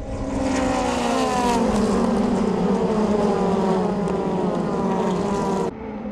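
Formula Renault 2.0 open-wheel race cars with 2-litre engines racing in a tight pack at a Eurocup round at MotorLand, several loud engines screaming together, then cutting off abruptly near the end.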